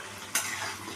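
Masala sizzles as it is stir-fried in oil in a pan for chhana kofta, a soft continuous frying hiss with one sharp stirring scrape partway through, close and fairly quiet.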